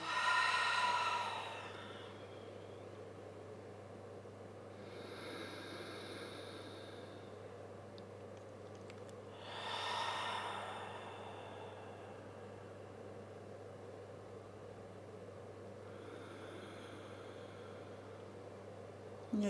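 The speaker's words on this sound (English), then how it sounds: "take a couple of deep breaths" A slow, deep breath drawn in and let out during a quiet yoga class, a few soft airy inhales and exhales spaced several seconds apart against a faint steady room hum.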